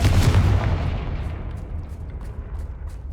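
Confringo blasting spell cast in Hogwarts Legacy, a heavy booming blast with a rumbling low-end impact that decays into a long fading tail.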